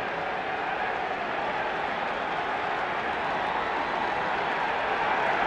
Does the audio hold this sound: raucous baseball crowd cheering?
yes